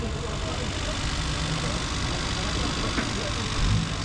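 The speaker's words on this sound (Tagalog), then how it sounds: "So yan yung andar ng makina natin mga kol." A 4x4 vehicle's engine idles steadily in a yard, a low continuous rumble with a slight bump near the end.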